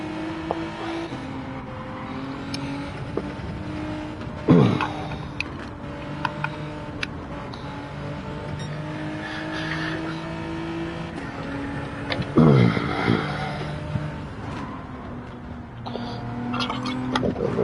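Racing car lapping in a sim racing game played on a Fanatec DD Pro wheel, engine droning steadily with rising and falling revs, two sharp louder bursts, no talk over it.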